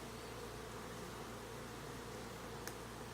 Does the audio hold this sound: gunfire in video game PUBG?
no